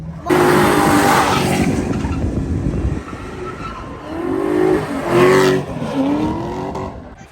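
Drift cars sliding around a track at Feofaniya, engines roaring loud and continuous with rising revs and a couple of sharp tire squeals near the middle and end.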